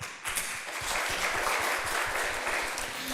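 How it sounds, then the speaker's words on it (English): Audience at a school English speaking contest giving a contestant a round of applause, a dense, sustained burst of clapping that swells quickly and stays strong, close and unbroken throughout. "give the contestant another big round of applause"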